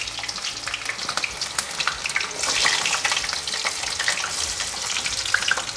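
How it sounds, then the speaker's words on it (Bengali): Potatoes frying in a pan on a gas stove turned down low, a steady close sizzle and crackle running the whole time, swelling slightly louder partway through, with no voices. "দিয়ে আমি প্রথমে এই আলুগুলো ভেজে নেব"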